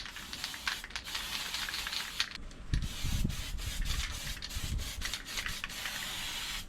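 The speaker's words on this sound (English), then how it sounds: "we're gonna spray paint it in this" Steady hissing of an aerosol spray can painting an under-body brace of a Toyota Altezza, broken by a few brief pauses, with low rubbing and handling noise underneath.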